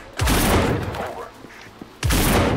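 Gunfire in the zombie survival game No More Room in Hell: a loud burst of shots at the start and another sharp volley near the end, with quieter game noise between, no talk.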